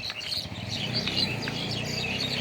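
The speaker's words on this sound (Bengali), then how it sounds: "কিচিরমিচির পাখির ডাক শুনতে বড় ভালো লাগে।" Birds chirp and tweet in repeated short calls, fairly close, on a morning walk along an old railway track at Hajiganj during light drizzle, over a soft outdoor background.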